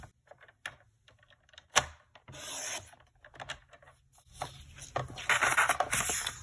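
Cardstock being cut for a handmade card, heard as soft scraping, rasping strokes that come in short bursts and then build into a longer, steadier rasp near the end, close up with no talking.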